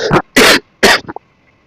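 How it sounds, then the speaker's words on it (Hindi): A teacher who is unwell gives two harsh, loud coughs close to the mic during a class, followed by a brief throat-clearing rasp, then quiet. "सॉरी खांसी आ गई थी"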